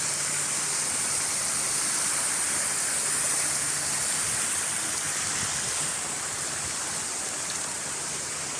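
Water flows and splashes steadily at Gardens by the Bay in Singapore, a loud continuous rushing like a fountain or cascade, with no voices over it.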